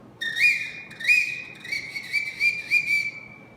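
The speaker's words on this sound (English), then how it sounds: "So this is a wooden flute." A clear, breathy wooden flute tone plays a sustained note with a few gentle pulses and slight slides, fairly close and alone.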